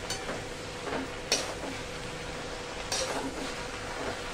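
Tandulka leaf greens stirred in a pan, a quiet crackling sizzle with two sharper scraping strokes of a spoon against the metal, close by.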